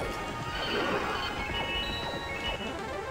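A horse in the video game Knights of the Round neighs loudly with a drawn-out whinny over rapid clip-clopping hooves and clattering game effects, fairly close, with no talk.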